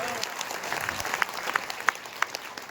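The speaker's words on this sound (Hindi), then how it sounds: "आपके लिए जोरदार तालियां" Loud applause from a large crowd at a religious gathering honoring a spiritual guru's birthday in Nagaur, a dense steady wash of clapping with sharper claps standing out throughout.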